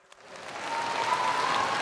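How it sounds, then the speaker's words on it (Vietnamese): Audience applause for dance performers at a gala finale, a broad hiss of many hands that swells from quiet to a steady, fairly loud wash and holds to the end, with no talk over it. "Một tràng pháo tay cho Ngọc Sơn và Phạm Lực"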